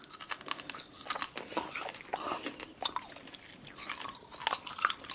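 Crunchy gummy-style candy chewed close to the mic during a candy mukbang, with irregular wet crunches and bites continuing for a few seconds, no talking.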